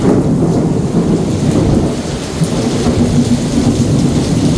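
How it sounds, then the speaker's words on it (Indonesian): Deep thunder rumbles through a steady, loud downpour during a rainstorm in Mecca, the heavy rain hissing constantly with no voices. "petirnya menggelegar-gelegar ya"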